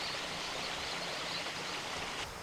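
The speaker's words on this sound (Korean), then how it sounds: "너무 고요하고 새 울음소리 그리고 물 흐르는 소리" A mountain stream on Wolchulsan rushes steadily in a continuous, broad hiss of flowing water, soft and even throughout with no voices.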